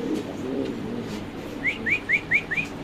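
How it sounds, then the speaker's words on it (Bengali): Imported Lahori fancy pigeons with leg rings at a pigeon seller's give a short series of about five soft rising calls in quick succession, following a stretch of low background murmur. "সো দর্শক আমরা আরেক জোড়া কবুতর ইনশাআল্লাহ দেখাচ্ছি আপনাদের"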